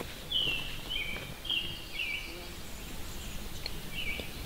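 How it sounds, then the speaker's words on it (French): Birds singing outdoors at an open-air opera setting, a few bright high chirps and short phrases repeating at intervals over a quiet background of faint rustle. "On entend bien les oiseaux, là."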